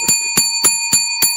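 Bell rung on a livestream, five quick bright rings in an even rhythm with steady ringing tones between the strikes, loud and close, no voices.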